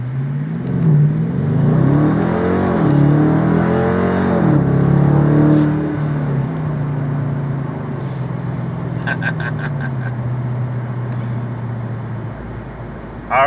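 A Dodge Challenger RT rolls along a neighborhood road, its engine revving up and easing off in rising and falling sweeps, heard from inside the car, with a few clicks near the end.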